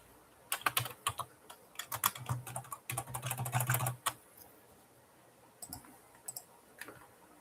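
Close, crisp keystrokes on a computer keyboard come in quick irregular bursts, denser in the first half, then thin out to a few isolated taps near the end. No one speaks.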